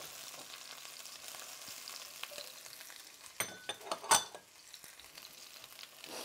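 Garlic sizzling in a hot pan after green onions, a steady close frying hiss with a few sharper clinks and stirring scrapes partway through.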